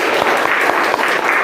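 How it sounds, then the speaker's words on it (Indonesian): Students clapping together in a classroom setting, a dense, steady round of applause sustained loud and close throughout. "tepuk tangan dulu dong semuanya"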